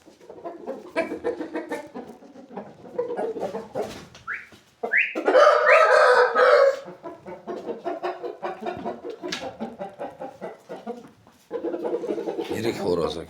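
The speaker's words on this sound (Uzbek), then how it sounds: "Yaxshi xo'roz bo'ladi." A rooster clucking and giving a burst of crowing in the middle, close and fairly loud, with someone talking before and after it.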